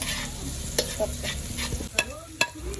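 Onions sizzle as they are stir-fried until golden brown for dinuguan, a steady close frying hiss broken by a few sharp scrapes of a spatula against the pan.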